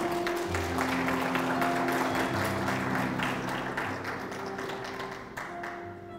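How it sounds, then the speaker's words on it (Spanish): A church congregation applauds during a sermon, dense clapping over a sustained low musical drone, loud at first and easing toward the end. "Vamos, aplauda a Cristo, así será."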